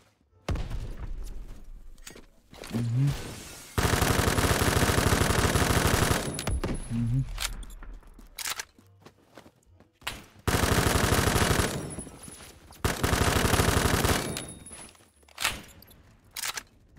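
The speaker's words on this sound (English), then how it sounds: "In this episode, we're going to be taking on the K2 Korean Assault Rifle." Bursts of automatic fire from a K2 Korean assault rifle in the shooter game Phantom Fortress, loud and close, with several long sustained volleys and short clusters between quieter gaps.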